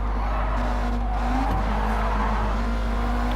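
Race car in the Gran Turismo video game accelerating uphill at the Nürburgring, a steady loud engine drone with a rising note and a brief tire squeal near the middle, close and continuous with no talk.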